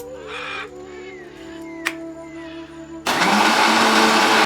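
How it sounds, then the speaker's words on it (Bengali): A mixer grinder whirs into a loud, steady blend of ripe mango for sherbet, kicking in abruptly after about three seconds of quieter ambience with faint bird calls and tones. "এবারে আমি মিক্সিতে একটু ঘুরিয়ে নেব, অল্প করে ঘুরিয়ে নেব"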